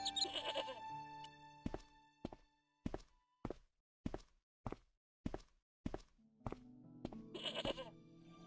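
A goat bleats in the Broken Sword: Shadow of the Templars video game, with wavering calls at the start and end and a steady series of about ten heavy thuds between them.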